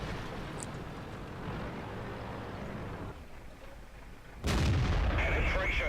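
A tank cannon fires in a tank battle video game, a sudden heavy boom near the end that cuts over a steady rumbling engine drone.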